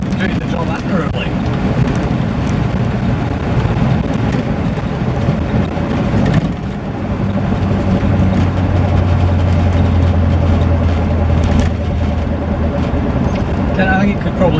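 A Morris Marina on the move, its steady engine drone and road rumble running continuously beneath someone talking the whole time.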